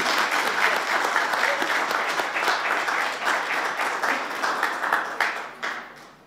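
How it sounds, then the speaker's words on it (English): Audience applause at a West Virginia government broadband announcement: loud, dense clapping from a crowd that holds steady, then thins out and trails off near the end. "Let's clap for Kevin"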